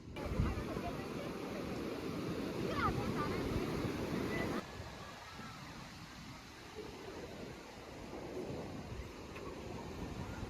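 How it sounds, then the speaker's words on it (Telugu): Ocean waves wash onto a beach while wind rushes steadily across the microphone, a constant roar that drops slightly in loudness midway through. "ఇంకా బీచ్ ఒడ్డున చల్లటి గాలిలో కాసేపు కూర్చున్నాము"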